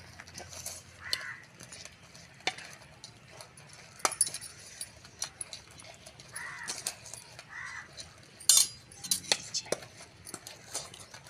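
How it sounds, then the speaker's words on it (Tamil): A spoon stirs cassava adai batter in a pot with sparse, close metal clinks and scrapes, and a few crow-like caws sound in the background of a village kitchen. "நம்ம இதை நல்லா கிளறிக்கலாம்"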